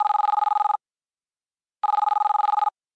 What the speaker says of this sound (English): Do you want to hear another one? Let's call up Lisa.